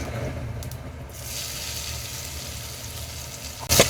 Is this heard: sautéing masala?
yes